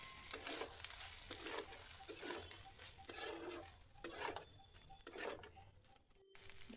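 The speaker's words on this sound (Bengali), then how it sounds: "হালকা হাতে নাড়াচাড়া করে একটু ভেজে নেব" Soy sauce and tomato ketchup being stirred and fried in a pan for a Sunday breakfast dish: a steady soft sizzle under repeated scraping strokes of a spoon against the pan, fairly faint, with no talking.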